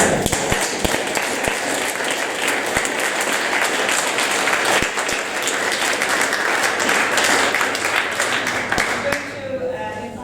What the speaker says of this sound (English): I think another round of applause to our main speakers.